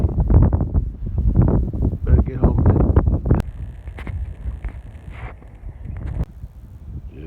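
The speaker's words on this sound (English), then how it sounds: "Oh, it sure is windy." Heavy wind buffets the microphone in gusty, low rumbling bursts in an open cattle pasture, with someone speaking briefly over it.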